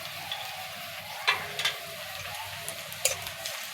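Garlic, ginger and green chillies frying in a pan give a soft, steady sizzle, with a few light ticks and clinks of a spoon scattered over it.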